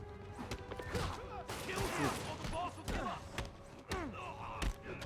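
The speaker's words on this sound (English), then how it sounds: "Yuri, an explosion just... I saw it" An explosion goes off in the Spider-Man video game, with loud crashing blasts followed by rapid gunfire-like bursts and sharp impacts, while voices talk over the chaos.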